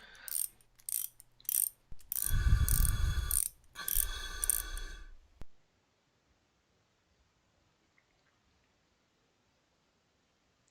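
A methane line being connected in the video game Surviving Mars: a few seconds of clanking, ratcheting mechanical latching and grinding sounds, then near silence.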